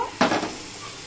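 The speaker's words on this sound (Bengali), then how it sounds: "গোবিন্দভোগ চাল বাটাটা দিয়ে আমি আরেকটু কষিয়ে নিয়েছি" Thick ground Gobindobhog rice paste being stirred and fried in a kadai for a vegetarian Bengali dish, a brief scraping stir over soft background sizzle, close and fairly quiet.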